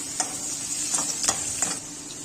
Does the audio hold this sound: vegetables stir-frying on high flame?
yes